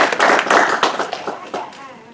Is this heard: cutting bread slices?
no